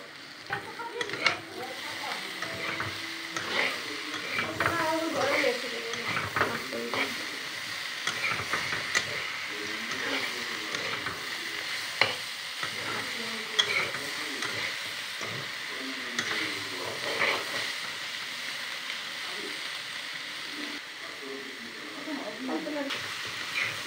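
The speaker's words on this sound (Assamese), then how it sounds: "বিলাহীখিনি 2 মিনিটমান ভাজিব লাগিব।" Tomatoes sizzle and fry in a pan on an Assamese home stove, with repeated scraping and stirring strokes throughout and a steady hiss underneath.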